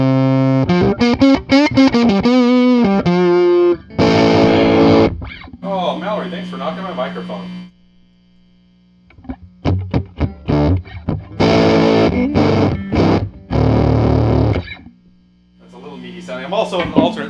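Fender Bassman 5F6A tube amp at maximum volume with an electric guitar playing loud, distorted chords and riffs in bursts, separated by pauses filled with a steady mains hum and noise.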